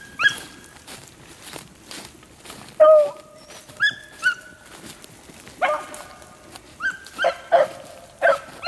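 Young hunting dogs out in the field give high yips, whimpers and short barks in scattered bursts, some near and some farther off. Footsteps rustle faintly between the calls.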